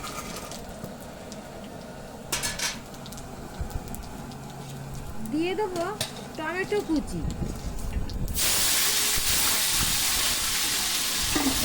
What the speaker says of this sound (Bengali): কড়াইতে দিয়ে দেবো জিরে তেজপাতা এবং শুকনো লঙ্কা ফোড়ন